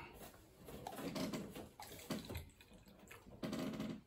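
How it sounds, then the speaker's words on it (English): Water poured into a measuring cup in a home kitchen while baking, faint splashing in short uneven bursts with no talking. "you put in 1/4 cup of water."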